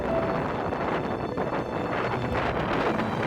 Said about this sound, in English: It turned out to be pretty windy on top of the hill